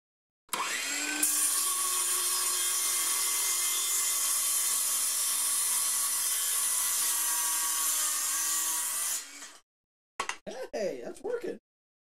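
A DeWalt circular saw running on a Milwaukee battery cuts through wood with a loud, sustained whine for about nine seconds, bogging slightly under load. The motor stops abruptly, and a few short, rough bursts follow.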